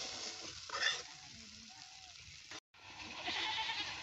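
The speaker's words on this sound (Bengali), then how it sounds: "এবারে আমি মশলা ভালো করে কষিয়ে নেব" Spice masala for a vegetarian potato dum frying and being worked in a pan, a steady close sizzle with scraping stirs, a brief louder burst near the start and a short gap of silence before the sizzling resumes.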